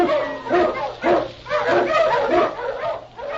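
Husky sled dog barking in an old-time radio drama, a close, loud series of rapid yelping barks and whines in quick succession, repeated several times without pause.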